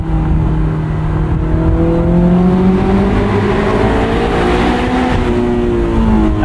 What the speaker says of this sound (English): That's where you really hear the exhaust.